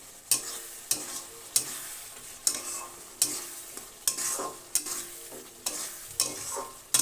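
Nolen pickle mixture with black salt being stirred in a pan, a spoon scraping in about ten regular strokes roughly every 0.6 seconds, close and clear over a faint sizzle.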